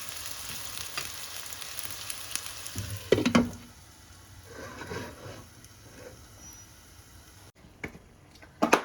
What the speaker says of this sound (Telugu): ఇవన్నీ వేసేసుకొని ఒకసారి బాగా మిక్స్ చేసి మూత పెడితే అవి ఫ్రై అవుతాయండి